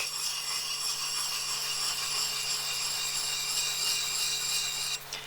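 A scrub plane blade is worked across a sharpening stone, giving a continuous, even rasping rub that carries on without a break before shifting slightly near the end.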